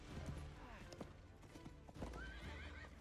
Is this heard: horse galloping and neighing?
yes